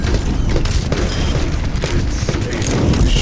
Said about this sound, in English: Dr. Junkenstein lobbed his bombs at the castle, the explosions a percussive accompaniment to the sound of his laughter.